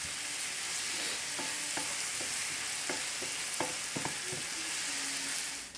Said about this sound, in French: je vais venir faire revenir mes oignons pour qu'ils caramélisent un petit peu